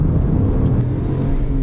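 A Porsche 997 with its engine behind the rear axle accelerates, a loud, steady engine drone building briefly with no talk over it.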